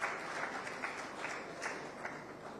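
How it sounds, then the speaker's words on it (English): Audience applause at a town hall on disability issues in Nigeria, a fairly quiet, steady patter of clapping with faint individual claps rising now and then, heard alone without talk. "A round of applause for him again,"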